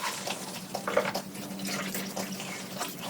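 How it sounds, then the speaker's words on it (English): Water trickles and splashes steadily into a coffee maker, a continuous bubbly gurgle at moderate loudness heard close up with no talking. "Something about the sound of trickling water makes me happy."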